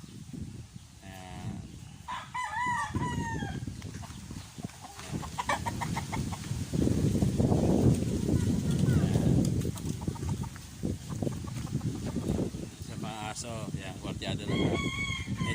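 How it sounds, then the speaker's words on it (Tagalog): Fighting roosters crow repeatedly nearby on a farm in San Jose, Nueva Ecija, several calls overlapping with clucking and farmyard noise, alongside a steady rumbling background. "manok na pangsabong"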